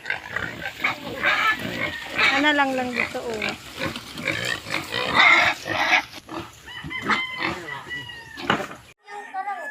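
Pigs oink and squeal repeatedly, loud and close, while being put into a sack for transport, with people talking over them throughout.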